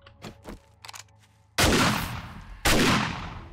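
Two loud, sharp shotgun blasts in the video game 7 Days to Die, about a second apart, each ringing out with a long decaying tail, after some quieter clicks and thuds.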